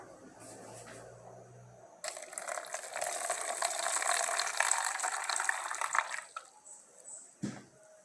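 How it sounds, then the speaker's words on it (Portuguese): Water poured into a bowl that already holds sand, a steady close gush lasting several seconds, then tapering off with a brief knock at the end. "Agora eu vou acrescentar água."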